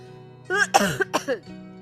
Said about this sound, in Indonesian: Aku batuk bentar.